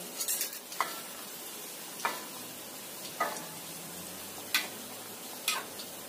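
Homemade krupuk crackers fry in oil over low heat with a faint, steady sizzle, broken every second or so by soft stirring clicks and scrapes. No one speaks.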